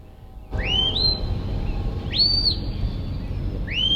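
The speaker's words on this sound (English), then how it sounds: "You hear those different degrees of chirps." A herding handler gives shrill whistle commands to a sheepdog working sheep through gates in a field. Three distinct rising whistle blasts repeat at steady intervals over faint outdoor rumble.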